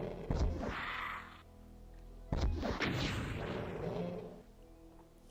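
Rockets fired in the classic shooter Doom, two heavy launches each followed by a loud, rumbling explosion that fades, spaced about two seconds apart with no talking.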